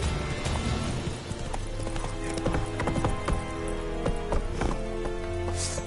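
Roach the horse galloping in The Witcher 3 video game, a steady loud clip-clop of hooves with an occasional snort or whinny over a continuous outdoor ambience.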